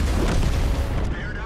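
Artillery fire in the World of Tanks video game, a deep booming blast that fills the short clip loudly and densely, with game noise layered around it.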